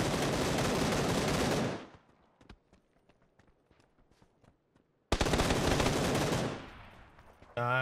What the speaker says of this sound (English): The guy, the bot behind me shooting me,